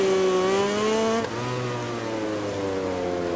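Ducati MotoGP racing motorcycle engine in the MotoGP 20 video game, a steady high-revving drone that drops pitch briefly as the rider shifts, then holds a lower steady whine, loud and continuous with no talk.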